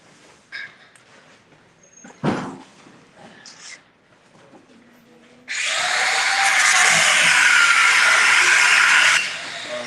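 A power drill runs in one loud, steady burst of several seconds during a UK aid-run stop, after a quieter stretch of scattered knocks and movement.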